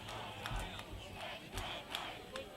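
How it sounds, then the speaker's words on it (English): High school football crowd in the stands cheers in the closing minutes of a game, a faint, distant wash of yelling with scattered sharp shouts or whistles rising above it. "And so the crowd is totally getting pumped up. The Blue Crew is going wild"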